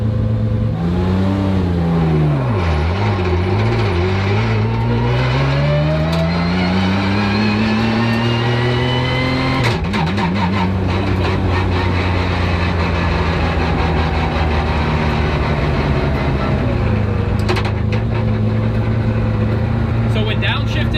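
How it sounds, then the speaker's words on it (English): A 1300-horsepower turbocharged BMW E46 M3 with an S54 engine drives hard, its loud engine droning and rising in pitch through the gears, with a brief shift break, road roar and a rough grainy texture beneath the engine throughout. "You hear every rock coming up on the tire, that nice clunk of the transmission."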